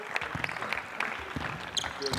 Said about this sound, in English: clap it up for Asham